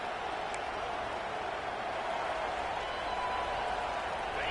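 A large video-game stadium crowd at Happy Valley roars on third down in a steady, distant wash of noise, faint and continuous, with a voice speaking at times.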